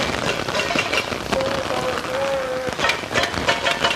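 Rain pours steadily during a thunderstorm in Providence, a loud, dense outdoor hiss that fills the whole stretch, with a faint tonal whine passing briefly through the middle.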